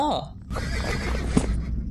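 A horse whinnies, a short high descending call, followed by game-like ambience and a voice speaking, in the Android game West Gunfighter.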